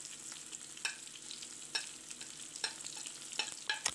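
Fish masala with onions, black pepper, salt and spices sizzles softly in a frying pan while a spoon scrapes and stirs at irregular intervals, close and quiet, with no voices.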